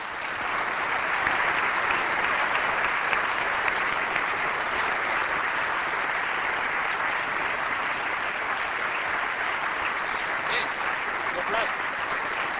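Sustained audience applause after Stephen Hawking's lecture at CERN, a broad, even roar of many hands clapping that holds steady for the whole stretch, heard from within a large hall.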